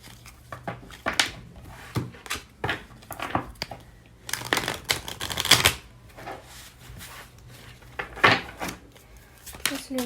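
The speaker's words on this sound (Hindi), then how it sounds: "तो कार्ड्स हम पहले शफल कर लेते हैं।" Tarot cards are shuffled by hand in a series of short, irregular riffling and slapping bursts close to the microphone, with quiet pauses between them.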